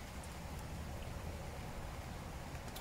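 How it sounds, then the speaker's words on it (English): Steady rain shower falling outdoors at a wild cooking camp, a dense even wash of patter with no talk, continuous and fairly soft. "As you can hear, the rain just came on"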